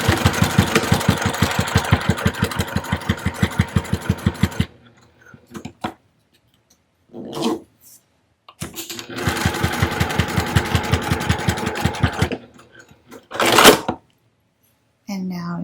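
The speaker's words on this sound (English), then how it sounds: "We're stitching through both the exterior and the lining." Sewing machine stitching around a small zip-around wallet through both the exterior fabric and lining, running in two long steady bursts of rapid rhythmic needle strokes, separated by brief pauses with light handling noises.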